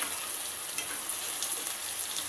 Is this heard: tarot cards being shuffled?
no